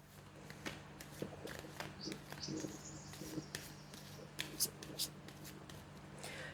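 Tarot cards being shuffled by hand in a quiet room, a run of soft, brisk riffling flutters and light taps spread through the clip over a low steady hum.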